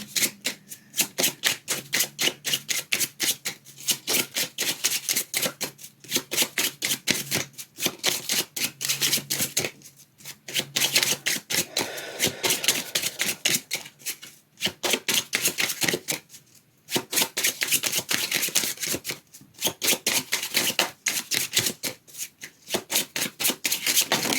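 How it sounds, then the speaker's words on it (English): Tarot cards are shuffled over and over in quick riffling bursts, close by, with short pauses between rounds and no talking. "The shuffling will take as long as they need."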